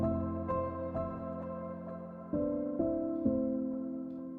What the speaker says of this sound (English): This piano is a piano from Decent Sampler called Claustrophobic Piano.